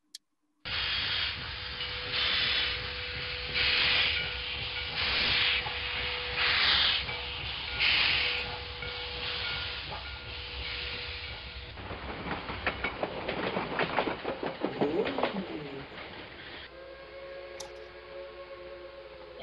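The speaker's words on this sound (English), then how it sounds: "it's a train" A train sound effect plays as a guessing-game clip: rhythmic steam-engine chuffs, then a rushing clickety-clack of wheels on rails with hissing, ending in a tonal whistle-like blast, loud and up close, with a brief murmured voice.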